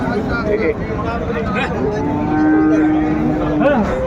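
A cow moos in a long, drawn-out low call amid a noisy cattle market crowd in Dinajpur, with other livestock and voices mixing in the background.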